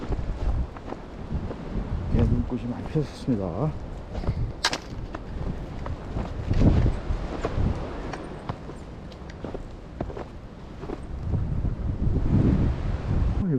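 Strong gusts batter the microphone on a snowy mountain ridge after heavy snowfall, giving a loud, rumbling roar that rises and falls throughout, while someone speaks briefly over the wind.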